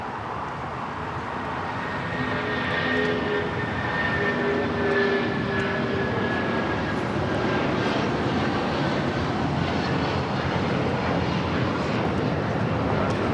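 A United Airlines jet bound for Houston Intercontinental takes off at LAX, its engine roar swelling from a moderate rumble into a sustained loud, broad thrust noise heard from a distance with tonal whine layered in.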